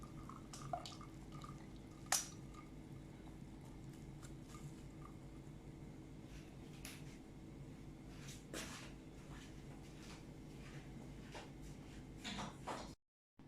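Water dripping and draining from steamed bottle gourd poured into a strainer in a home kitchen, faint irregular drips over a low steady background hum, with a few sharper knocks and clatters.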